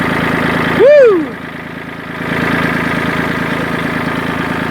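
A farm tractor engine idles steadily at close range, a low, rumbling drone that continues throughout, with a brief rising-and-falling whine layered over it near the start.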